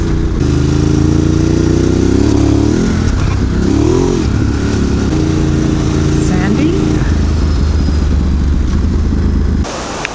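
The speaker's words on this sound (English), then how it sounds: "I am out trail riding on a Desert X rally, having a bit of fun, looking for some cool trails." A 2024 Ducati Desert X Rally motorcycle ridden on dirt trails, its engine droning loudly and close throughout with rising and falling revs, wind noise over it, cutting out near the end.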